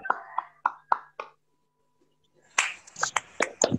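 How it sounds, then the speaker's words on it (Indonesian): A class of students claps hands in a school physical education lesson: first a few separate sharp claps in a loose rhythm, then after a short quiet a denser burst of overlapping claps from the group. "Tepuk tangan dulu semuanya."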